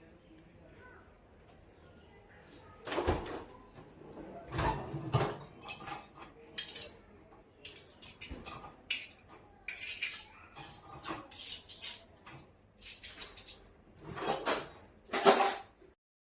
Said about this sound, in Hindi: ये सारे मैं जो बर्तन मैंने लगा रखे हैं ड्रॉर्स में, मैं इनको बाहर निकाल के और मैं सारे ड्रॉर्स को साफ़ कर रही थी।